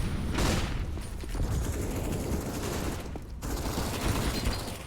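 Rapid gunfire crackles through a competitive shooter game match, a Desert Eagle pistol among the shots, with dense overlapping bursts and a steady loud bed of battle noise throughout.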